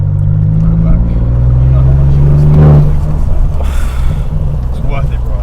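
Low, rumbling engine drone from a BMW 218i three-cylinder with a straight-pipe exhaust, rough and burbling on overrun as it decelerates, loud and close inside the vehicle.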